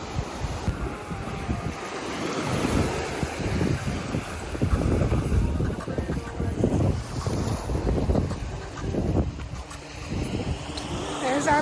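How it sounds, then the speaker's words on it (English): A boat motor rumbles steadily amid heavy wind buffeting the microphone and washing water, the engine drawing gradually nearer as the boat approaches Pelican Bar, Jamaica. "There's our boat coming for us."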